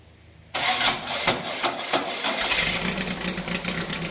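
An engine fitted with a new carburetor fires up for the first time. There is a sudden loud catch, then a rough, uneven idle with a steady rumble that settles into a continuous run.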